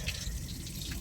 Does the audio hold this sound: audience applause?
no